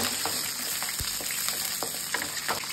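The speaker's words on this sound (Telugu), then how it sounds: "ఆయిల్లో ఫ్రై చేసి రుబ్బుకోవాల మసాలా" Green chillies and spices frying in oil for a Naati-style chicken biryani masala give a steady, close sizzle, with a soft stir scraping through it.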